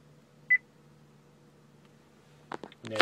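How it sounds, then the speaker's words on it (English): A single short electronic beep from a 2013 Honda Pilot's voice command system sounds early, followed by quiet hum and then some clicking and rustling near the end. "After the beep, please say a command"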